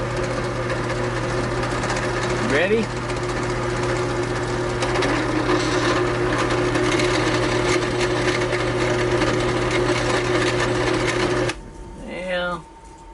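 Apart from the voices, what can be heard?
drilling a peg hole in walnut wood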